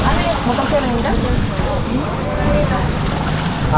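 Loud, steady rumble of a boat motor on Taal Lake mixed with rushing water and wind buffeting the microphone, with voices faintly in the mix.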